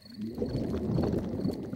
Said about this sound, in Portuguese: o ronco da minha barriga é um dos melhores sons da natureza